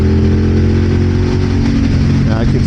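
A 2026 Aprilia RS 660 motorcycle in commute mode under an opened throttle, its engine a loud, close, continuous drone with the rider talking over it.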